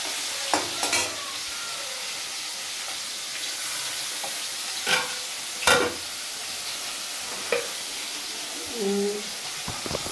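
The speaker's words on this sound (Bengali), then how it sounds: "আর একটা এই ভাজবো এটা ভেজে রেখে দেবো" Fish fries in a pan with a constant hissing sizzle. A few sharp clanks and stirring knocks break through, and a voice is heard briefly near the end.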